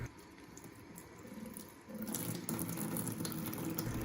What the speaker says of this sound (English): the water trough was extremely leaky